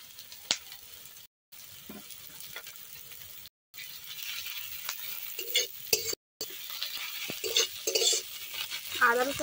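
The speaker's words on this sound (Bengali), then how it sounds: "আদা রসুনটা একটু তেলের মধ্যে ভেজে নেব" Chopped ginger and garlic fry in hot oil while being stirred for a Bengali fish korma, a soft, crackly sizzle broken by scraping and stirring noises, with a few brief gaps.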